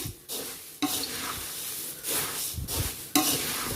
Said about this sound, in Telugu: ఈ బొరుగులనంతా బాగా మిక్స్ చేసుకోవాలి